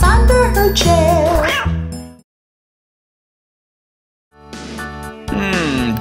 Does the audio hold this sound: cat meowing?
yes